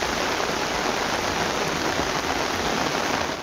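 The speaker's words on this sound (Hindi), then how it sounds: "महकमा मौसमियात के मुताबिक सबसे ज्यादा बारिश बलोचिस्तान में हुई।" Heavy rain falls in Balochistan, a dense, steady hiss of downpour that stays loud and unbroken throughout with no voices.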